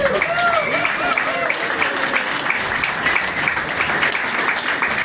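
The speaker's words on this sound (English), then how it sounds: "Let's give a round of applause for our friend" A crowd at a mayoral event in Haverhill gives a round of applause, dense continuous clapping at steady volume throughout, with some voices and cheering mixed in.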